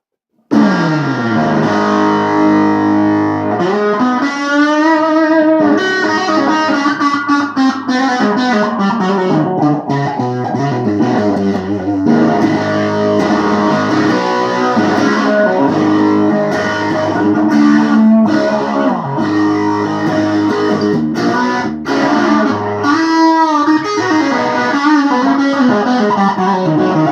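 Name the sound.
electric guitar through overdrive pedal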